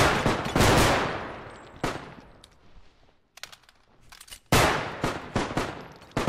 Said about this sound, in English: I'm getting shot by my teammate!